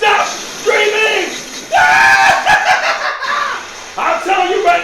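Women shrieking and screaming at a ladies' night, loud piercing bursts in three waves with brief gaps between them, close and harsh.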